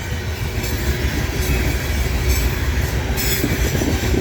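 A loaded westbound coal train made up of a mix of five-bay and four-bay hoppers rolls steadily past, its wheels rumbling with a constant, fairly loud roar and faint squeals running through the whole stretch.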